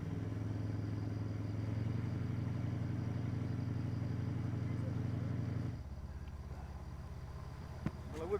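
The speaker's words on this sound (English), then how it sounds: "The revving engine soon sees to that." A boat engine on the Mekong river runs with a steady, loud droning throb that drops to a lower idle partway through, followed by a few faint knocks.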